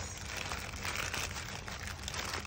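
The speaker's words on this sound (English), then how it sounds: "Now the packing is so tight, I cannot make out the material, so it is getting cut." Crinkling, tearing plastic packaging wrapped tightly around an online-ordered women's gown as it is cut open, a steady close rustle lasting the whole moment.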